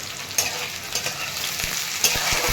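Kanda poha with peanuts, green chillies and onion frying in a pan, a steady close sizzle broken by a few scraping stirs of the spoon, with no voices.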